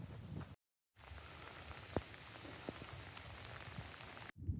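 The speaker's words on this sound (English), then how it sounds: "It's still drizzling" Light drizzle falls outdoors on a walking trail, making a soft, even hiss with occasional faint drop ticks, steady and quiet throughout apart from brief gaps.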